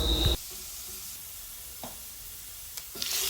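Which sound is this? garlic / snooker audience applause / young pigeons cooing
garlic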